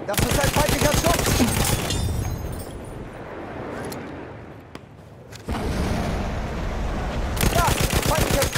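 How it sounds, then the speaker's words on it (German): Enemy gunfire in the World War I shooter Battlefield 1 on the Amiens map in Conquest mode, with dense rattling shots and booms at the start and end and a quieter, muffled stretch between. "Das ist ein feindlicher Schuss!"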